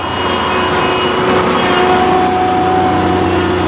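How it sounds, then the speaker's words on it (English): A water truck engine runs at a construction site for a water recycling facility being built in Los Angeles, a steady, loud, unbroken rumble with a droning hum, heard alone without talk. "Water truck over on the top."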